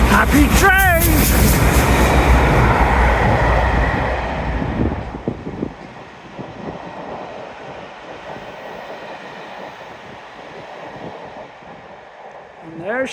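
The steam locomotive Nunney Castle passes through a rainy station. A brief whistle cuts through a loud, close roar of the train that fades over the next few seconds, leaving a quieter rumble and scattered clatter.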